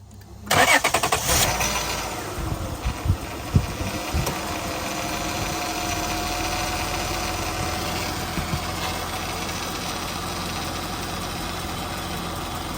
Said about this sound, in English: Let's go ahead and start up our car.